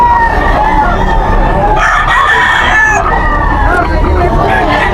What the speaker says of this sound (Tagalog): Ito yung mga dala na manok.